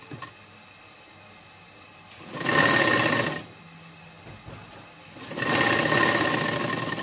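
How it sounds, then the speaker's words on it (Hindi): A sewing machine stitches a round pocket seam on a burqa in two short, close bursts of rapid whirring, separated by a quieter pause with faint handling sounds. "और गोल सिलाई करेंगे जेब की।"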